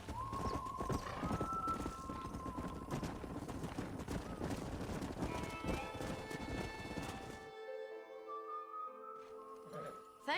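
A horse gallops with steady clip-clop hoofbeats in the video game Red Dead Redemption. It is followed by a loud whinny near the end, all over a faint game background.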